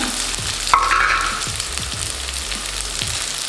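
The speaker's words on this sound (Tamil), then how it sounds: "இப்போ நம்ம வெட்டி வச்சுருக்க வெங்காயத்தை ஆட் பண்ணிக்கலாம்." Chopped onions added to quail frying in a pan, a steady close sizzle with a few stirring scrapes and clinks, no talking.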